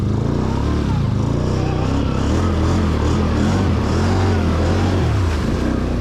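A Can-Am 850 XMR ATV engine running in four-wheel drive through deep water or mud at Lake Murray, a steady loud low drone with shifting revs throughout, close and continuous.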